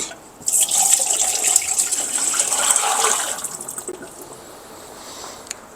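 Tap water from a household well pours steadily into a container, a bright rushing splash that starts abruptly, holds for about three seconds, then tapers to a faint trickle.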